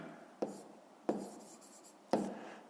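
A pen writes on paper while working a fifth-grade math exercise, giving three distinct, faint scratchy strokes spaced about a second apart with no voices.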